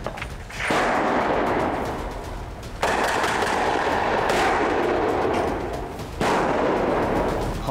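Gunfire erupts during a police special forces operation against armed criminals at a building, coming as three long, loud, dense bursts with brief gaps between them.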